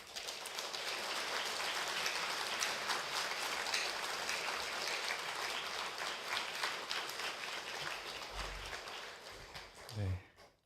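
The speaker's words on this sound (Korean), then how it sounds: "우리 박수로 크게 환영해 주시기 바랍니다" Congregational applause at a Thanksgiving special dawn prayer service welcoming a pastor to the front, a steady broadband wash of many hands clapping that holds for about nine seconds before tapering off, with a brief low voice at the end.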